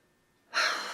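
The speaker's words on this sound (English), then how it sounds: "Can you stop breathing so loud?" A single loud, close breath bursts in after half a second of near silence and keeps rushing, airy and sustained, right up against the microphone.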